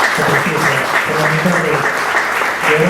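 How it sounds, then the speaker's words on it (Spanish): Audience applause at a book presentation, a dense, steady round of clapping from a room full of people, close and loud, with some voices mixed in. "un aplauso por favor"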